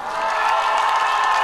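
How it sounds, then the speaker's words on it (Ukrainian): Outdoor karaoke crowd on a town square in Pokrovsk applauds singer Alina, a steady, dense wash of clapping with some cheering that stays loud and even throughout, no talk over it. "Аліна, ваші оплески Аліні?"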